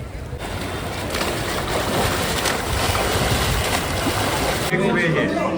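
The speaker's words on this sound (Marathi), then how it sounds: "पाण्याचा प्रवाह खूप जास्त आहे" Loud rushing water of a fast-flowing river at Badrinath, Uttarakhand, roars steadily close by, broadband and continuous, with wind buffeting the microphone and some voices underneath.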